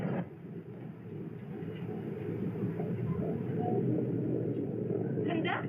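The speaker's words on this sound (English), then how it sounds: "Conductor, the train is stopping, isn't it?" A steady, heavy rumble of a passenger train from a 1929 film fills the scene as it slows toward a stop, a dense, continuous low roar with faint rattles that holds fairly even throughout.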